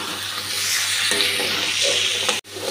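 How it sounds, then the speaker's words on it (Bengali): Onion, green chili and tomato fry in a pan, a loud continuous sizzle with occasional stirring scrapes, close up, ending in a sudden clunk. "পেঁয়াজ টমেটোটা ভালো করে ভেজে নিয়েছি।"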